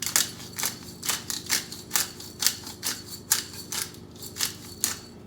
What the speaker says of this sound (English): Now I'm gonna put in several cranks of pepper.